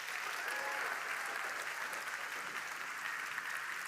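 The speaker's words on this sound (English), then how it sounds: "let's give a big round of applause to the entire team at ISZL and the Youth Forum Switzerland" An audience at a youth forum in Switzerland applauds the organizing team, a dense, even clapping that holds steady throughout without cheering or talk.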